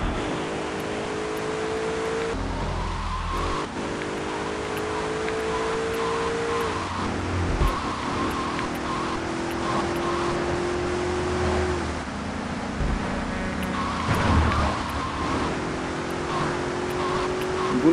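A car in Grand Theft Auto 3 driven fast and recklessly, its engine droning steadily with repeated rising revs through gear changes, alongside scattered impacts and other game noises, all fairly loud throughout.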